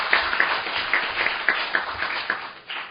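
Audience applause welcomes a speaker at a Korean political party forum, sparse and moderately loud, with distinct individual claps standing out in an uneven rhythm before fading toward the end.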